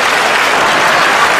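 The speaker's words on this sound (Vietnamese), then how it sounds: "đây một tràng vỗ tay cho anh Hoàng." Loud, sustained applause from a television show audience for Mr. Hoàng, a thick wall of clapping hands that stays steady without any speech.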